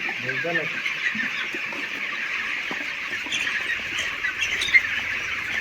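Broiler chickens on a poultry farm, with a few clucks and squawks rising over a steady din of the flock, heard at middle distance.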